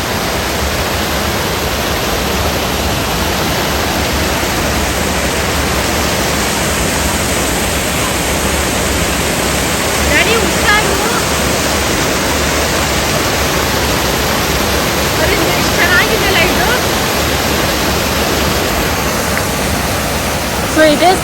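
Bhatta Falls in Uttarakhand roars as a loud, steady wash of falling water, a dense broadband rush that holds constant throughout with no breaks.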